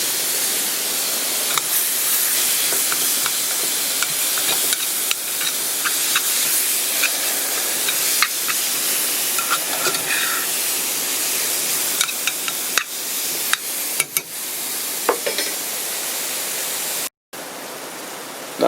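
Ground beef sizzling in a dollar store pan while it is stirred with seasoning: a loud, steady, close hiss with occasional scrapes and clicks from the spoon.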